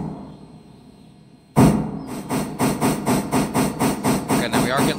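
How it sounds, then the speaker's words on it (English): A train locomotive in the railway simulation game Railroader pulls away after a quiet pause. Loud, even, rhythmic chuffs repeat about twice a second, close and steady, with faint talk in the background. "we got to get this train moved over there. A little bit of throttle."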